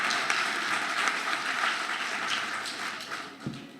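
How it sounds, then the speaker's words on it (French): An audience at a tribute event honouring Senegalese poetry gives a preface writer warm applause, dense steady clapping from a medium crowd that fades slightly toward the end. "je vous demande également de l'applaudir bien fort."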